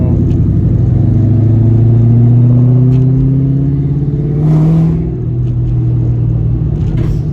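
A Ford Mustang's exhaust rumbles loud and low as the car drives slowly along a quiet road, a deep steady drone with gently rising and falling engine pitch.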